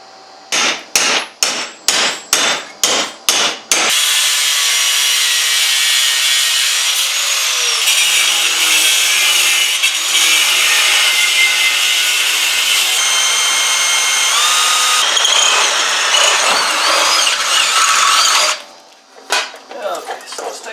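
A metal flat bar is cut during modifications to a Gravely tractor. About eight sharp hammer-like blows come first, then a long, loud, harsh grinding or sawing cut runs steadily before stopping, followed by a few clanks.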